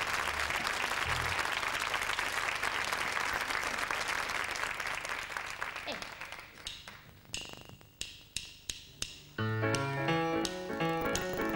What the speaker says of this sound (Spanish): Un aplauso para Johnny.